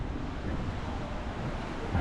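Open sea washes steadily past a cruising ship on a day at sea, a continuous rushing surge mixed with wind noise and no voices.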